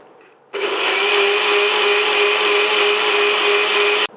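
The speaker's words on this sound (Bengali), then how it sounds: "এটাকে আমরা বেটে ফেলবো এবারে, তাহলেই তৈরি হয়ে যাবে সুন্দর চালের দুধ।" Electric blender grinding soaked rice with water into rice milk, starting abruptly and running as a loud, steady, close motor whine with a constant hum for several seconds before cutting off.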